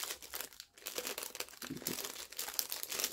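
A small plastic bag of stickers is opened, giving sustained close crinkling and rustling through the whole stretch, with a few sharper crackles and no talking.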